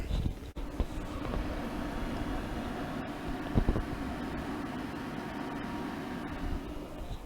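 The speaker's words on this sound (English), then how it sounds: "sound of all the fans going full blast" A loud, steady rushing roar of a Dell Dimension 4600 desktop computer's fans blowing at full speed, with a few faint clicks and bumps on top and no speech.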